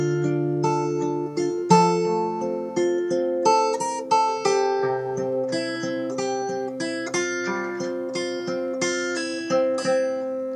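Fingerstyle guitar arrangement of a song, ending section: clear plucked chords and melody notes in a steady flowing rhythm, played close and alone without talking.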